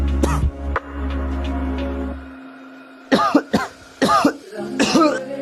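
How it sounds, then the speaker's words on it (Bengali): A person coughs in several harsh, close bursts after a short spell of other noise, the coughs coming in quick clusters. "তোর তো কাশি অনেক বেড়ে গেছে"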